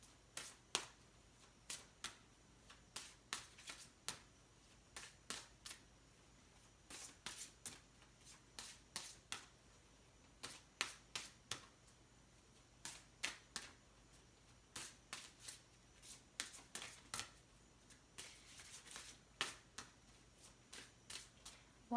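Tarot cards shuffled for an astrology reading, a steady run of crisp riffling bursts in quick clusters of two to four, close and clear with short pauses between, no voices.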